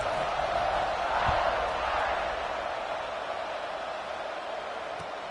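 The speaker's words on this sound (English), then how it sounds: "this crowd is buzzing after that last score" A college football video game stadium crowd fills the background with a steady, dense roar that stays fairly even throughout.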